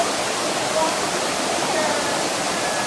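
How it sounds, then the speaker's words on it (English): Steady rushing roar of a waterfall in Norway, loud and unbroken throughout, heard from close by. "Here we are at the waterfall."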